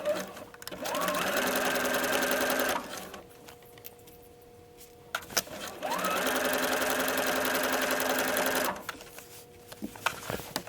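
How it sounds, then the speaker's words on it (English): Sewing machine fitted with a clear presser foot hemming jeans, running in two long steady bursts of fast rhythmic stitching with a pause between them, close and loud, ending with a few light clicks. "I'm using a clear foot on the machine just so I can really see both sides and know exactly where the needle is."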